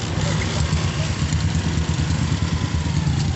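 A new motorcycle engine idles steadily and close by on a road trip to Lemery, a continuous low rumble with no talking over it.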